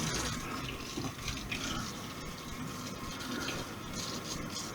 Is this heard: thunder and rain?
no